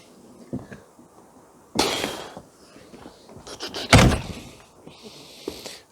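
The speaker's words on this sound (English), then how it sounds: "I don't know why this door doesn't shut anymore." A VW Scirocco MK2 car door is slammed shut twice, giving two loud, close thuds with rattles, the second heavier, between quieter handling noises and a brief rattle of keys.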